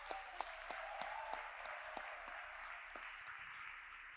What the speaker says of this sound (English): how about another round of applause for Dr.